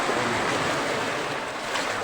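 Sea waves wash against a rocky shore with holed rocks and caves, a continuous broadband rush of surf with a little wind noise, fairly close and steady with no talking.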